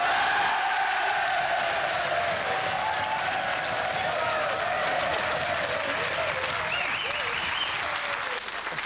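A studio audience at the 1998 Fantasy World Cup Live TV show breaks into loud, sustained applause with cheering and whistles, filling the room continuously for several seconds.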